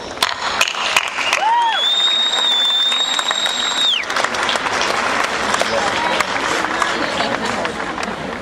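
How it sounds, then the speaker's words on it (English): Loud sustained applause from a large crowd at the 2008 West Point graduation ceremony, with a whistle and some cheering early on, continuing strongly to the end. "So why don't all of you join in a round of applause for their support."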